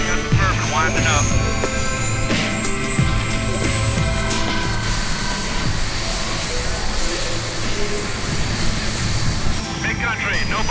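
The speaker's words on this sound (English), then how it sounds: "we got the turbine winding up" A jet turbine powering a record-attempt TurboJet land-speed car winds up at a Texas speed event, a loud sustained roar with rising whine that fills the whole stretch while people talk nearby.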